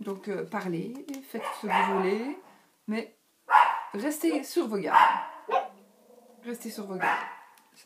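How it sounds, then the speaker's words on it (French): A pet dog indoors barks in repeated sharp bursts close by, mixed under and between someone speaking French. "c'est mon chien qui aboie"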